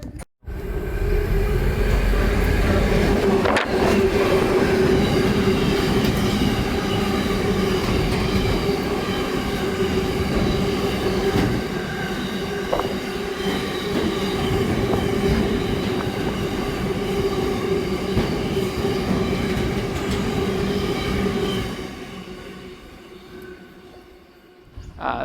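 A train hauled by locomotives 8152 and 48130 rumbles through a South Coast Line station at close range for over twenty seconds, with wheel clatter and a steady metallic hum before gradually fading.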